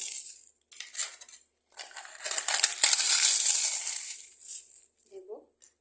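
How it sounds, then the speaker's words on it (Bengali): Dry papads snapped and crushed by hand over a bowl of chopped onion and fried peanuts for chira bhaja, giving crisp crackling bursts in several short runs, with a longer crunching stretch in the middle, close and fairly loud. "তারপরে এই পাঁপড়গুলোকে হাত দিয়ে এইভাবে ভেঙে"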